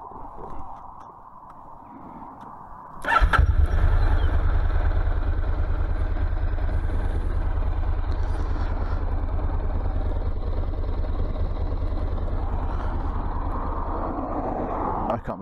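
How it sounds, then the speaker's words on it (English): A sudden loud engine starts up and keeps running steadily with a deep, continuous rumble, close by, after a brief stretch of quieter background. "it was mostly just engine noise"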